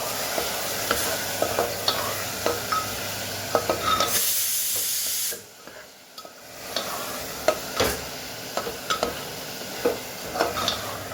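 Potatoes stirred in a sizzling pan, with scraping strokes and light clinks over a steady fry, briefly dropping to near quiet midway before the sizzle and stirring resume.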